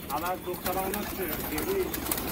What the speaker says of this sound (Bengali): নতুন একটা পায়রা এসছে